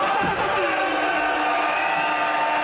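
A press conference crowd for the Fatal Fury boxing event with Garcia v Romero and Haney v Ramirez cheers and whoops, a loud, continuous wash of voices filling the room.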